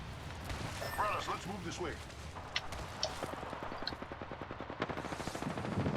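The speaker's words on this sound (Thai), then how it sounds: "เฮ้ยมีคนยิงกันตรงนู้นอ่ะ" Gunfire in the video game Apex Legends rattles in rapid bursts, sounding somewhat distant, with a busy background of game noise and voices.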